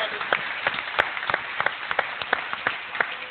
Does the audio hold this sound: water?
no